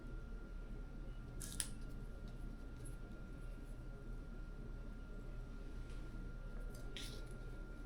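Scissors snip the excess string off a homemade turkey quill fishing float, giving one or two short, crisp close cuts over a steady low background hum.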